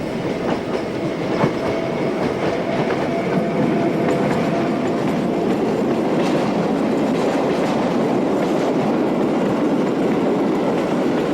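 A Siemens Eurosprinter electric locomotive hauls a train past on a Portuguese railway, a loud, steady roar of wheels and rails with rhythmic clickety-clack from the wagons, continuous and close throughout.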